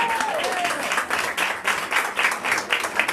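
Audience members at a volunteer award ceremony clap in a lively, continuous round of applause with rhythmic swells, fairly close and loud throughout.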